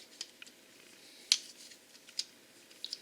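Scissors snip off the spare end of a plastic pull tie during a metal detector pinpointer depth mod, a single sharp cut standing out against faint rustling and small clicks in a quiet room.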